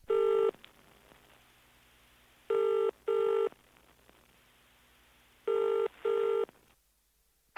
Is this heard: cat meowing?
no